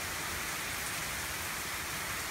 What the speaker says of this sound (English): Look at the rain pour off the roof of that barn across the road.